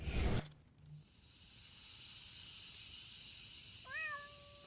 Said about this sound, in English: A cat? When did it get here?